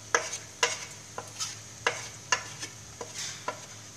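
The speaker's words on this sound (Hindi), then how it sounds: "मसाले को हम अच्छे से मिक्स करेंगे।" Spoon stirring turmeric and coriander powder into browned onions in a pan, a series of sharp scraping knocks in an irregular rhythm over a faint sizzle.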